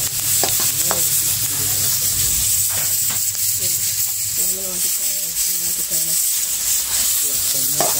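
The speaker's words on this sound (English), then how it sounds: "So I sauté my seasoning" Seasoning sautéing in a pot of curry makes a steady sizzle with scraping stir strokes, while a voice talks intermittently over the cooking.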